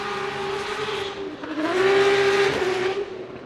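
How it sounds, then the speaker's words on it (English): Formula Drift car at Wall 2019 qualifying, its front right wheel locking up with a loud sustained tire squeal over the roaring engine, rising in pitch and intensity midway before easing off. "That front right wheel locking up here."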